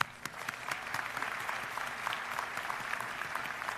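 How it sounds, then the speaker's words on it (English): Steady applause from a commencement audience honoring distinguished award recipients at a school of education ceremony, dense and sustained clapping heard from within the crowd for the full stretch. "Let's give them a big round of applause"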